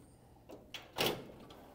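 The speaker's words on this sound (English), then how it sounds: "And at this point, you just push the drawer closed." The paper drawer of an HP PageWide XL printer is pushed shut: a couple of soft sliding scrapes and then one firm thud as it closes, near and alone.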